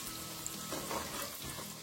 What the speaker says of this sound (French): Je commence par mettre nos oignons qu'on va faire blanchir.